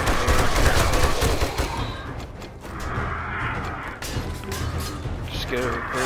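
Dense, loud gunfire in the survival game 7 Days To Die: rapid overlapping shots and crashes that run without a break, with voices in the mix.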